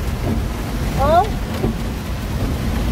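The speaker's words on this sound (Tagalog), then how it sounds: "Grabe ang ulan." Steady broadband hiss of heavy rain fills the whole clip, with a brief chirping sound rising over it near the middle.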